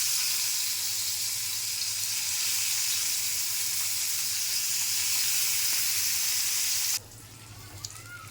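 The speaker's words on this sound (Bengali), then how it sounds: "এখন পরিমাণ মতো তেল দিয়ে ভাজা দিয়ে দেবো মাছটা" Fish fries in oil on a hot tawa with a loud, steady, close sizzle that hisses evenly for about seven seconds, then cuts away to much quieter background sound.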